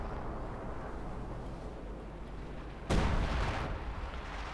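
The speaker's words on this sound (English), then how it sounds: "Another artillery barrage." An artillery barrage in the WWII strategy game Company of Heroes 2 lands as one sudden heavy blast after a low rumbling battlefield din, its roar trailing off over the next seconds, no talking.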